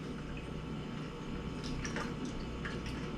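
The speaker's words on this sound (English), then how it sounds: "now I can control the flow, and it comes out easily without gurgling or doing anything" Water pouring from a container to fill it at a camp or overlanding site, a soft steady trickle with faint splashes and drips, quiet and close with no talk.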